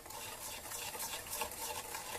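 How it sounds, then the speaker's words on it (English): Egg mixture being whisked while warm milk is added to temper it for a mixed berry tart, a quiet, quick rhythmic clatter of the whisk against the bowl. "I'm going to take some and add it to the egg mixture to temper it, and I'm going to whisk this"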